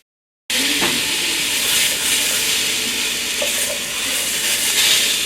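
Leeks caramelize in a pan over medium-low heat, giving a steady, moderate sizzle and hiss with occasional faint stirring sounds after a brief silent start.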